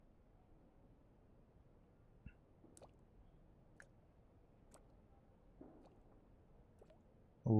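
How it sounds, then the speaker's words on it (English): Faint, sparse drip-like ticks, about one per second, fall one after another over a quiet low background hum in a video game scene. "Like dripping water."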